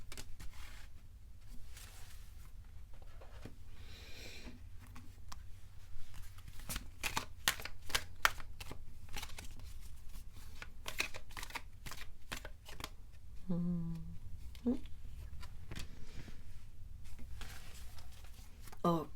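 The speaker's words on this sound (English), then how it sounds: "let's shuffle your oracle cards and let's see what comes through" Oracle cards being shuffled by hand give a steady run of soft riffling and slapping card sounds, close up, with a brief quiet voice partway through.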